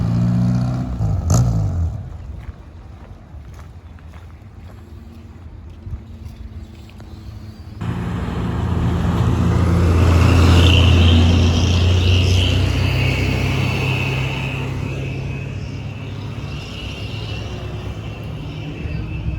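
A jeep drives on patrol through the savanna of Rawa Aopa Watumohai National Park in Southeast Sulawesi, its engine rumble and wind rush swelling loud after a quieter opening and holding steady to the end.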